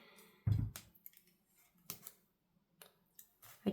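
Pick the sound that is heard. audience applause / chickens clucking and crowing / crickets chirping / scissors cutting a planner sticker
scissors cutting a planner sticker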